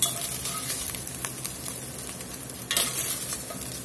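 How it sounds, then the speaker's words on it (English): Cube steak frying in a pot for chili, a steady loud sizzle and crackle with occasional sharper spits and bursts, close up and with no voices. "All right, she's back to frying now."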